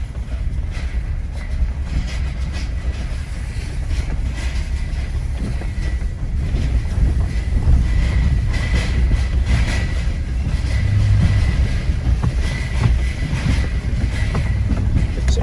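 A small trailer carrying a side-by-side is towed slowly behind a vehicle, producing a constant rumbling, rattling road noise with clattering and low engine drone, near and fairly loud, without speech.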